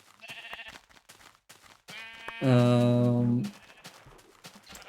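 A sheep bleats loudly once in the Minecraft video game, a long wavering call rising after a few softer game sounds, with near silence around it.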